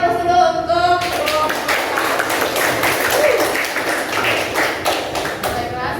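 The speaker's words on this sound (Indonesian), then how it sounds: "kasih aplaus dulu untuk" Classroom applause for a group presentation, a steady patter of many hands clapping together for several seconds, moderately loud and fairly close, with some talking mixed in at the start.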